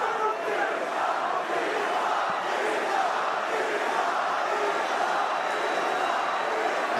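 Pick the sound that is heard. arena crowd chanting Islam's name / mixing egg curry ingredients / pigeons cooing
arena crowd chanting Islam's name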